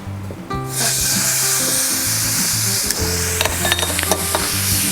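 Chicken pieces laid skin-side down into a hot pan sizzle loudly and steadily, oil crackling close up with occasional sharper pops and scrapes; no voices.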